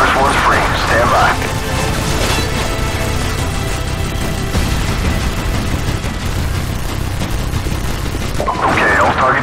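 Heavy gunfire from Call of Duty 4: Modern Warfare fills the whole stretch as a dense, continuous roar of rifle bursts and crashing impacts. Radio-style voices talk over it at the start and again near the end.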